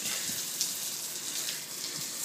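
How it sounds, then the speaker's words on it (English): Hot water sprays steadily from the shower head of a 4Runner's camp shower system, a close, even hiss that holds unbroken throughout with no talk. "I might end up changing the shower head because I think this one uses a little too much water."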